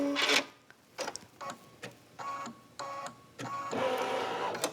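An embroidery machine stitches a couched design on an in-the-hoop pillow, running in repeated mechanical bursts separated by brief pauses, with the final stretch a longer continuous whir, close and moderately loud with no talk.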